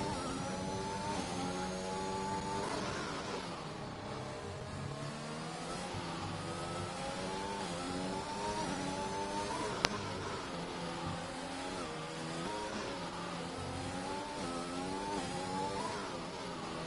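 Race car engines rev and whine continuously in the F1 2021 video game at Singapore, their pitch rising and falling through gear changes, with one sharp click partway through and no talking.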